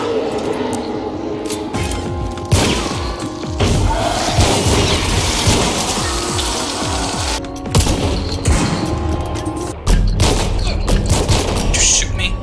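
Gunfire in the video game Hunt: Showdown, with repeated loud shots and booming impacts over a dense, busy game soundscape across the whole stretch.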